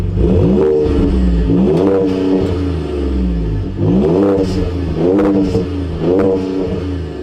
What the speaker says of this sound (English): you got a real dual exhaust system to give it that unique Raptor sound